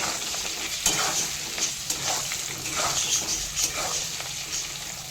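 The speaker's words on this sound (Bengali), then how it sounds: "আলুগুলো খুব ভালো মতো লাল লাল করে ভেজে নিচ্ছি" Potatoes fry in plenty of oil in a wok for an egg curry, a steady moderate sizzle with soft bubbling and occasional stirring clicks, close up and without talk.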